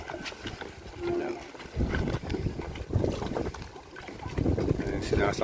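Wind buffets the microphone with a low rumble of engine and water as an outrigger boat (bangka) heads to an island in Quezon, Philippines, with muffled voices now and then.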